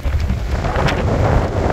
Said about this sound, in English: It's really windy out right now.